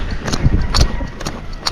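Hooves of a gaited horse at a flat walk thud close and loud in an even four-beat rhythm, with a few sharp clicks over ground noise.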